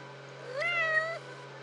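In the strategy game Crusader Kings, a single clear cat meow rises and falls over about half a second, close and alone against a steady low hum.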